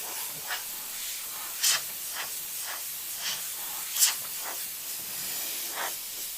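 An airbrush sprays paint onto a battlefield cross artwork, a continuous soft airy hiss with occasional brief sharper bursts of spray, close and steady, no talk.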